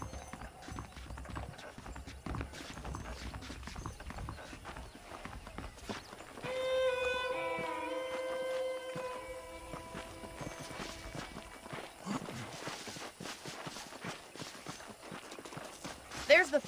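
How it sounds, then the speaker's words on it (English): Saddled horses in the western game Red Dead Redemption, hooves clip-clopping at a walking pace through the scene, with game music and character dialogue over them. "The horses are saddled up over here."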